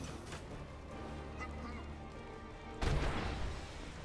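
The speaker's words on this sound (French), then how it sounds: "Et voilà, une première tourelle de détruite." A turret blows apart in LEGO Marvel's Avengers: ongoing game sounds give way to a sudden heavy blast near the end, loud and booming, with some rumble trailing after.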